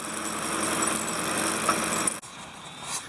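A tractor engine idles with a constant low rumble, then cuts off abruptly near the end, leaving quieter background noise.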